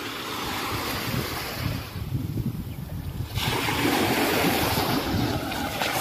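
Steady rush of ocean surf breaking along Flic en Flac beach in Mauritius, with gusts of wind buffeting the microphone throughout.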